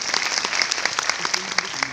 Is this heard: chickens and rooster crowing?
no